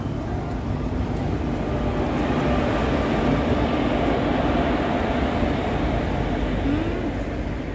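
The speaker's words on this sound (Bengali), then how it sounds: "আমাদের ট্রেন চলে এসেছে।" A train pulls into the station at Malda, heard as a steady, loud, broadband rumble that holds evenly from start to finish.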